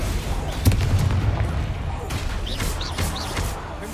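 The Confringo spell from Hogwarts Legacy bursts in a sharp explosive boom, followed by further crackling magical impacts and whooshes amid ongoing combat sound effects.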